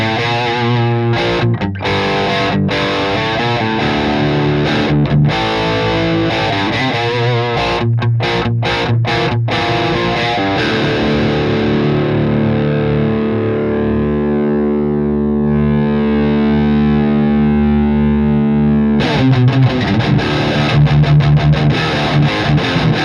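Electric guitar played through an EVH 5150 III Stealth high-gain amp, heavily distorted with chugging rhythmic chords and stops, then sustained ringing chords, loud and continuous with no talk.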